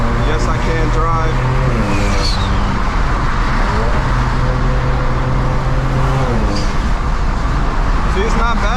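A turbocharged, Stage 4 tuned BMW 335i cruising on the highway: a steady, loud engine and road drone fills the whole stretch, with traffic noise and passing vehicles swelling in and out.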